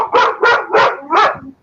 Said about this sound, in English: Like I can hear that bark.